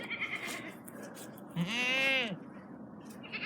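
Goats bleat in a single drawn-out, wavering call near a portable browsing pen on a farm, rising over a low steady background hum; someone says a brief word just before.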